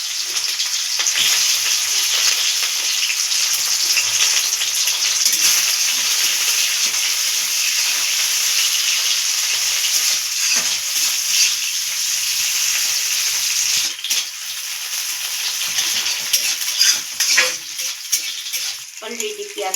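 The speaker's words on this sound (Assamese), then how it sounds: "এতিয়া ভাজিৰ কাৰণে মিঠাতেল অকণমান দিছোঁ ইমান অলৰেডি তেল গৰম হৈছে কাটি ৰখা পিঁয়াজখিনি দিছোঁ" Chopped onions sizzle and crackle in hot mustard oil in a pan, a loud, continuous close-up frying hiss with occasional stirring scrapes and bursts near the end.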